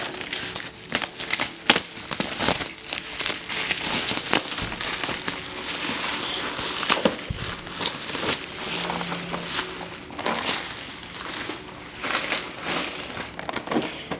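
Bubble wrap around two boxed model airliners, one an Etihad Airways A380, crinkles and crackles steadily as it is cut away, close up, with irregular sharp crunches and no talking.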